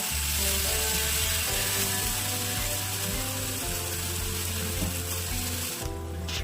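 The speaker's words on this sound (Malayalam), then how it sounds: "ഇനി ഇതിലേക്ക് കഴുകി ക്ലീൻ ആക്കി വെച്ച ചെമ്മീൻ ഇട്ടു കൊടുക്കാം. എന്നിട്ട് 3 മിനിറ്റ് നേരം ഒന്ന് വഴറ്റി കൊടുക്കണം." Cleaned prawns sauté in a hot pan with a steady, loud sizzle and hiss, and a low continuous hum sits underneath throughout.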